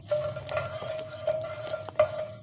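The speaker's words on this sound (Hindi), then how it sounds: "उसी ऑयल में अब हम छोटी इलायची, लौंग, काली मिर्च, दालचीनी डाल देंगे।" Whole green cardamom, cloves, black peppercorns and cinnamon sizzle and crackle steadily in hot oil for chicken korma, with a few soft stirring scrapes and clinks in the pan, close up.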